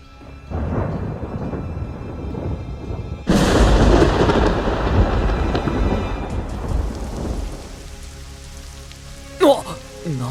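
In the video game Twisted Wonderland, a sudden heavy downpour starts and swells to a loud rumbling crack of thunder, then roaring rain continues before easing, with a brief tonal game sound near the end.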